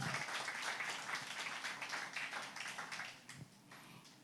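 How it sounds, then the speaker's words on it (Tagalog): A church congregation claps loudly together, a dense burst of applause that gradually fades and thins out toward the end, with no talk over it. "Pumalakpak ng malakas."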